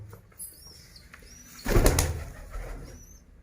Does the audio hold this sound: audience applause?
no